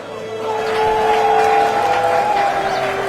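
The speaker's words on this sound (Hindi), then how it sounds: "दर्शकों की तालियां रुक ही नहीं रही थी" Crowd applause and cheering at a wrestling match, a steady swell of clapping with a sustained tonal hum running beneath it.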